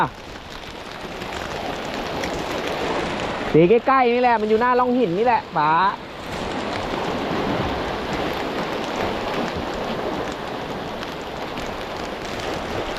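Heavy rain pours down on the coast during shore fishing, making a dense, constant hiss throughout. Someone talks briefly near the middle.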